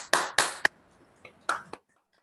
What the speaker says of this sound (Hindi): मैं चाहूंगा सभी के लिए हम धन्यवाद प्रेषित करेंगे जोरदार तालियों के साथ।